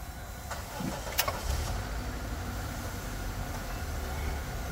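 A Ford Ranger T9 with a 2.0 twin-turbo diesel engine cranks briefly and then settles into a steady, loud idle that drones on without talk.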